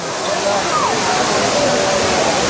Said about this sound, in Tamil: தண்ணி கொட்டுறது அவ்வளோ அழகாக கொட்டிகிட்ருக்கு குற்றாலத்தில் இதுதான் மெயின் அருவி